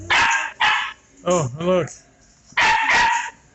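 A farm dog barks in a few sharp bursts close by, the barks coming in clusters between a person's short spoken remarks.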